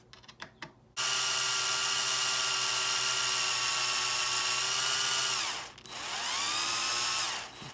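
A power trimmer cuts 224 Valkyrie brass cases held in a shell holder, starting after a few clicks and running as a loud, steady high whine, briefly dropping away and spinning back up near the end.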